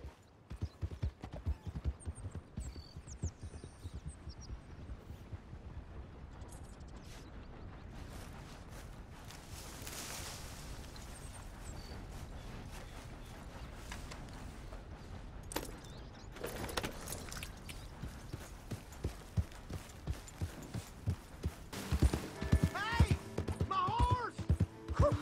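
Steady clip-clop of horse hooves trotting along in Red Dead Redemption 2, with scattered game-style effects and brief jingling on top, growing busier near the end.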